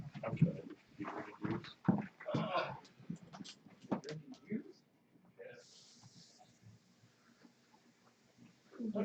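Dogs whimper and shuffle close by, mostly under several people chatting, with a thin high whine near the end.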